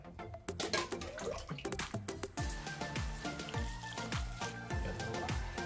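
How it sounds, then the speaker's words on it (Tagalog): Water poured into a cooking pot, with uneven splashing and dripping at first, then a steady run of liquid with rhythmic glugging pulses, close and fairly quiet. "Lagyan natin mga kabayan ng tubig."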